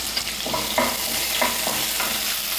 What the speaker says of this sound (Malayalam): പച്ചമുളക് കറിവേപ്പില ഇതെല്ലാം ചേർത്ത് ഒരു രണ്ട് മിനിറ്റ് ഒന്ന് വഴറ്റാം